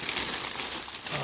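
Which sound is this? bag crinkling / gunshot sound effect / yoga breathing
bag crinkling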